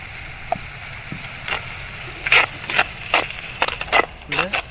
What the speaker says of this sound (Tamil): வெங்காயம் நல்லா வதங்கின உடனே அரைச்சி வச்ச தக்காளியை ஊற்றிக்கலாம்.